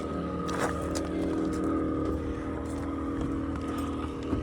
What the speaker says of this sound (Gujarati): એક બોટ ઉપડી ગઈ